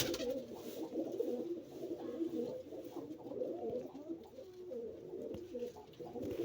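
Pigeons cooing in a loft, soft low repeated coos from several birds overlapping steadily, fairly close, with faint background noise.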